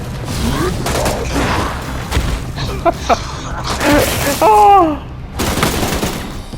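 Gunfire in the game Resident Evil Re:Verse: loud bursts of rapid shots and booming impacts in uneven clusters, with a voice exclaiming between them.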